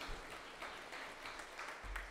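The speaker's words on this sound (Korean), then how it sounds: "큰 박수로 하나님께 영광." Church congregation applauding at a Sunday Advent service, a faint, continuous patter of clapping heard from a distance with a low thump near the end.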